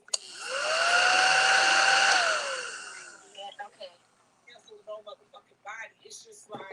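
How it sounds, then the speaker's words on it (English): A household vacuum cleaner whirs steadily at close range for about two seconds, its pitch sliding up at start and down as it shuts off, followed by scattered clicks and handling noises. "Is this vacuum too loud?"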